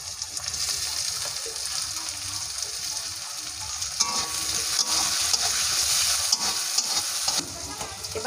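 Chopped tomatoes go into a wok with fried onions, turmeric and salt, giving a close, continuous sizzle with stirring scrapes that grows slightly louder partway through.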